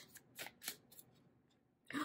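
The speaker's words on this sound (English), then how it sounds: "I'm going to go ahead and shuffle the cards, see what comes out." Tarot cards are shuffled up close, making a few quiet, brief papery riffling bursts separated by short pauses, with a louder rustle at the end.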